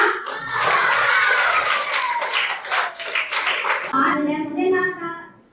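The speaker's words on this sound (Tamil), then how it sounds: "இங்கு வருகை புரிந்த நமது சுதந்திர போராட்ட தியாகிகள் அனைவருக்கும் மீண்டுமாக ஒரு நல்ல கரகோஷம் கொடுக்கலாமா?" Clapping from an audience at a school Independence Day event honouring freedom fighters, dense and steady for about four seconds under a voice, then giving way to a voice alone.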